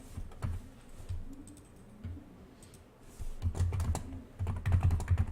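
Computer keyboard keys clicking close by during illustration software work, with several irregular presses including the delete key and a quick burst of firmer taps toward the end, no voices.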